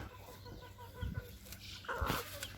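Chickens clucking close by, with several short bursty calls and a louder squawk toward the end, over a faint background hum and no speech.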